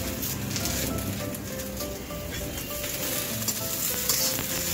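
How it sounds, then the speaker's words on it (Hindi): Okra, tomato and onion frying in a pan over low heat, a steady crackling sizzle with occasional stirring scrapes, close and continuous. "इसको धीमी आंच पर भूनेंगे थोड़ी देर तक"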